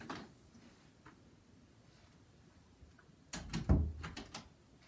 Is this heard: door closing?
yes